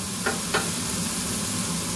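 Hamburger patties of fresh mince sizzle hard on a very hot pan, a dense, steady hiss up close with a couple of brief spatter bursts near the start.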